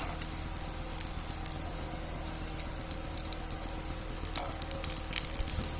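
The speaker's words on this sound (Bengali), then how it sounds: "আমি এক চামচ ঘি দিয়েছি তার মধ্যে কাজু আর কিশমিশটা একটু ভেজে নিচ্ছি" Cashews and raisins fry in a spoonful of ghee in a pan, giving a soft, continuous sizzle with faint crackles and pops throughout.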